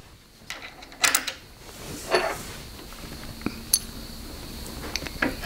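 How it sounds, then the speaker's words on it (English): A metal washer is set onto a bolt at a woodworking bench, giving several light close metallic clinks and clatters among quieter handling noises, with no speech. "And then put a washer on."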